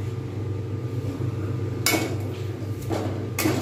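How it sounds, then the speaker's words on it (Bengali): Pitha batter, for chushi pitha, gently stirred in a pan, a low steady hum with a few soft scraping and clinking strokes of a utensil against metal. "নাড়তে থাকবো আলতোভাবে, বেশি নাড়বো না, তলায় যেন ধরেও না যায়।"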